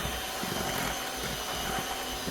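An electric mixer whipping cream into butter runs as a steady, dense motor whir, unbroken and fairly loud throughout.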